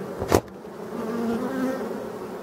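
Black forest bees buzzing steadily and close, a sustained droning hum with one louder insect passing near at the start.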